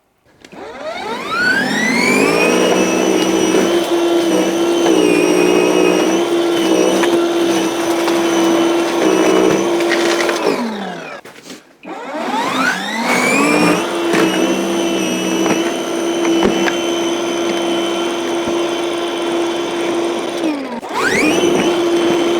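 A 40V battery electric snow shovel clears snow over gravel. Its motor spins up to a loud steady whine, cuts out, then spins up again for a second long run, close by with no talk.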